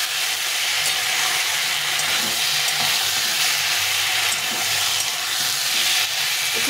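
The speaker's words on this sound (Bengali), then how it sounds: "এখন আলু পটলটাকে দিয়ে ভালো করে কষিয়ে নিতে হবে।" Potato and pointed gourd pieces sizzle and fry steadily in oil in a pan, a loud continuous hiss with occasional stirring scrapes and no voices.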